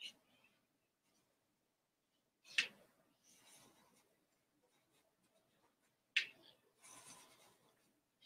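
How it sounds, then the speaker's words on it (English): A black marker drawn over traced pencil lines on paper, a close, faint scratching and rubbing in two short bursts separated by quiet pauses. "now I'm just going to go over it with black marker so you can see it."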